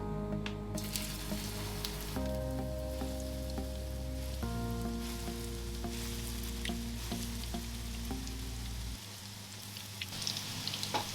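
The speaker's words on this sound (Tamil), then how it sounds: "நம்ம ஆயில் நல்லாவே ஹீட் ஆகிடுச்சு இந்த ஸ்டேஜில் கொஞ்சம் தீய சிம்மில் வச்சுட்டு ஒன் பை ஒன்னாக இந்த கட்லெட்டை போட்டு எடுக்கலாம்" Fish cutlets fry in hot oil in a pan, giving a continuous soft sizzle and crackle. A low steady hum runs underneath, and a few light clinks are heard before the sound thins near the end.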